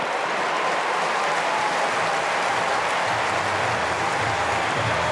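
A large cricket crowd at a Big Bash League match between Adelaide and the Sydney Sixers applauds steadily, a dense, continuous wash of clapping and cheering from the stands that holds for the whole stretch with no voices standing out.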